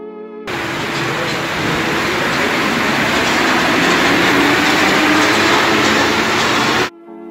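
An RATP MP73 rubber-tyred Paris Métro train on line 6 runs steadily, a loud continuous rolling roar of tyres and motors that starts abruptly and cuts off near the end, with no talking.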